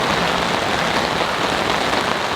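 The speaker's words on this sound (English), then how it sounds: "It is absolutely pouring out there" Heavy rain pours down steadily during an intense storm at a campsite, a dense, even hiss of drops drumming on surfaces throughout with no other sounds.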